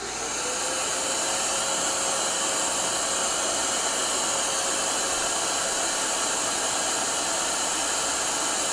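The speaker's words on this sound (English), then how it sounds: "I'm going to turn on the vacuum." A workshop vacuum at a router table roars steadily at close range, a constant loud whoosh with a faint whine, unchanging throughout.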